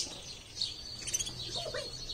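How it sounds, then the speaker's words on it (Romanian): Canaries at Zooland Kassel chirping and twittering softly, scattered high tweets and short calls at moderate distance over a low background murmur. "Canarii cântă foarte frumos."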